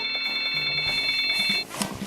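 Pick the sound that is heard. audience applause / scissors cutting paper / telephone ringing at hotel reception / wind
telephone ringing at hotel reception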